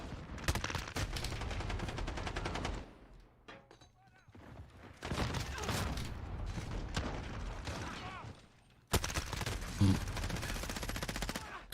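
Gunfire in Call of Duty Modern Warfare: bursts of rapid automatic shots and mechanical weapon clatter come in loud stretches separated by brief quieter gaps, with in-game voices mixed underneath.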